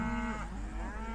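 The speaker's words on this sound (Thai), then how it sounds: "เขาก็ได้ยินเสียงเสียงวัวครับเสียงวัวเสียงควายมันร้องระงมลักษณะทรมาน" Cattle and buffaloes moo in drawn-out, distressed calls, a loud sustained low bellow that bends in pitch and carries on alone.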